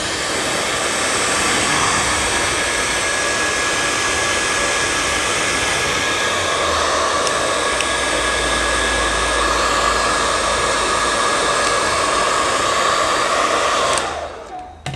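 A hair dryer blows with a steady, loud whooshing hiss and faint whine, running continuously before shutting off near the end.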